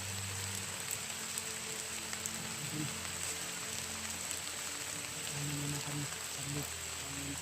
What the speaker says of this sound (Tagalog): Rain or shine din no? Basta hindi lang uulan